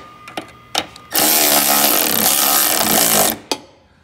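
A Milwaukee electric ratchet tightens 10 mm bracket bolts on a 2017 Jeep Wrangler, a loud close whirring burst of about two seconds framed by a few sharp clicks and knocks.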